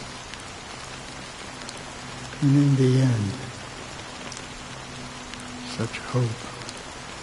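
Steady rain patters in a Honkai: Star Rail scene, a soft constant hiss running throughout beneath a voice speaking briefly.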